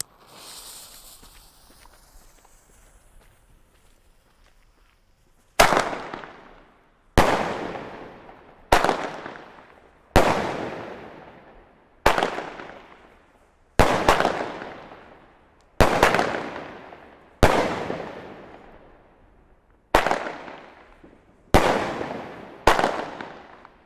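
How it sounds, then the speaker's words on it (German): A small Alba Aidos 7-shot firework battery starts with a quiet fuse hiss, then fires a rapid series of sharp, loud cracking bangs, each trailing off in a short echoing decay, outdoors with no talking. "Kleine Schuss, kleine 7-Schuss-Batterie."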